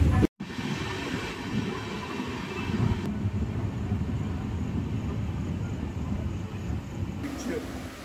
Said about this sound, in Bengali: পুরী স্টেশনকে কিন্তু আমরা বাই বাই করে এগিয়ে চললাম আমাদের গন্তব্যের দিকে।